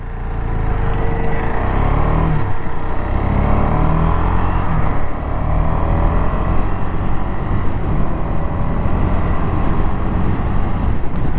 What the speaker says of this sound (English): So that's Duke 250's engine.